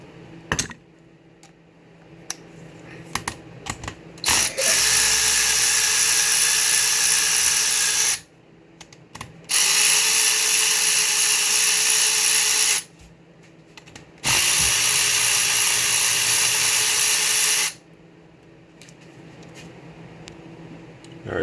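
A power tool works on the bolts of a Honda CB/CG250 motorcycle engine during a teardown, running in three long, loud, steady whirring bursts of about four seconds each, separated by pauses filled with small metallic clinks and handling noise.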